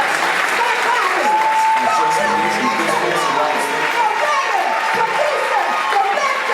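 Loud, steady applause from an audience at a live poetry play, sustained throughout, with voices rising over the clapping.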